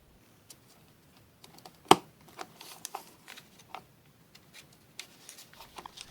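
A McDonald's Hello Kitty Happy Meal toy paper puncher is pressed down onto paper, giving one sharp, close pop followed by scattered light plastic clicks and rattles.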